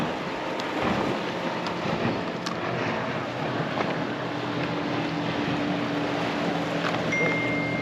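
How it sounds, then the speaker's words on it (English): A speedboat passes offshore from a rocky Cornwall fishing spot, its engine a steady distant drone blended with wind and sea wash, holding level throughout. "Wait for that wake off that speedboat going past"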